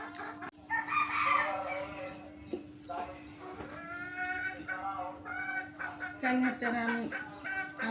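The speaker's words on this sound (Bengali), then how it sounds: "নাজমিন এই মুরগি তোমরা তো খাওয়া দাওয়া করছো" A rooster crows at a rural household, its drawn-out call rising near the start and again near the end, mixed in among people chatting close by.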